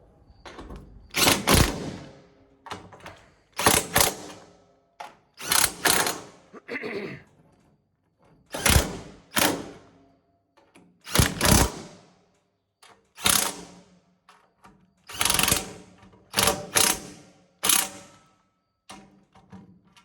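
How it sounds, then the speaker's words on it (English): Bolts on a Gleaner R72 combine straw spreader are tightened with a ratcheting wrench in repeated close, sharp bursts of clicking, each lasting about a second and separated by short pauses. "Let's get it tightened down."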